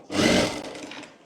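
A sewing machine runs in one short burst stitching velvet blouse neck lining, a close, steady whirring hum that swells quickly and then eases off.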